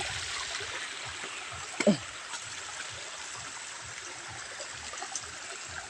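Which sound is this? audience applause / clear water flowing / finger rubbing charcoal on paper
clear water flowing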